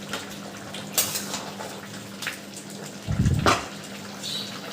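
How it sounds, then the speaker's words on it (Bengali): Lentil dumplings (bori) drop into a cooking pot of shukto with cauliflower, making a couple of close clattering plops and a brief watery splash among soft kitchen clatter. "এই বড়িটা দিয়ে দিচ্ছি।"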